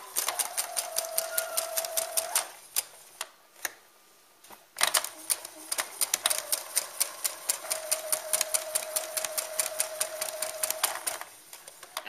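A sewing machine stitches a quarter-inch seam on a stuffed lamb doll, running in fast rhythmic bursts of close mechanical ticking with a brief pause and a few single stitches between runs.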